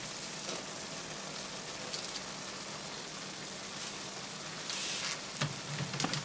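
Vegetables and mushrooms cooking in a pan for green chili romaine wraps, giving a steady, soft sizzling hiss that continues throughout, with a few slightly louder crackles near the end.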